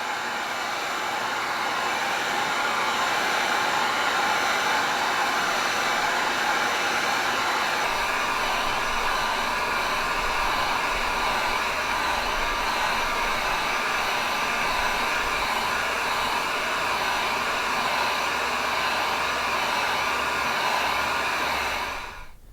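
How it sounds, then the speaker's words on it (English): A heat gun blows steadily and loudly over the handle of a wooden Lakota-style bow, a constant airy roar that runs without a break for about 21 seconds and then cuts off. "I'm simply going to run this heat gun right over this handle area"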